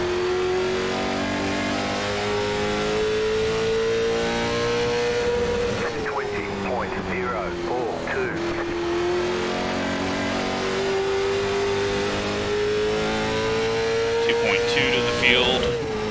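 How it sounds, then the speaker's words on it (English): Late model stock race car on the Stafford track, engine roaring loud and steady as the throttle is slammed on exit, pitch climbing with a brief dip mid-clip, commentary voice talking over it. "Getting a little loose on exit as we come back up on track and slam on the throttle."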